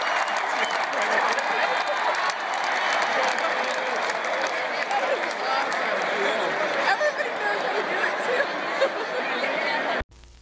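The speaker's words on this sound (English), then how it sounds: "During a football match, crowd in stadium initiated a light wave using their phones." A large stadium crowd at a football match roars and applauds steadily for about ten seconds, a dense far-off wash of cheering and chatter, before cutting off abruptly.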